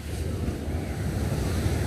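Sea waves at Shankhumukham beach wash in as a steady, close, even rushing roar without pause, mixed with a touch of wind.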